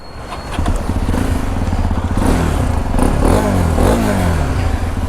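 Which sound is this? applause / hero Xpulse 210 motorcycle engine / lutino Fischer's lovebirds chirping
hero Xpulse 210 motorcycle engine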